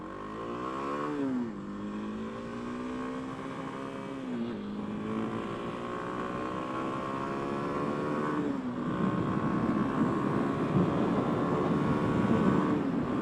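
A 2024 Kawasaki KLX 300SM motorcycle cruises at highway speed, its engine droning steadily with a couple of gear-change dips in pitch, under heavy rushing wind noise that grows louder toward the end.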